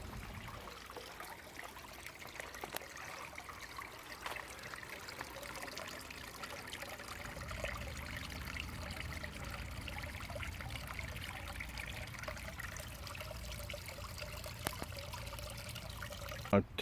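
A garden pond's waterfall trickles steadily, a continuous soft splashing wash with faint scattered drips and low outdoor rumble.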